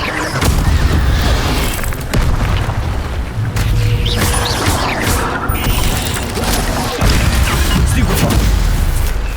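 Spells being cast in the Hogwarts Legacy video game, a dense and loud run of booming blasts, crashes and crackling impacts over a constant rumble, with brief shouted incantations mixed in.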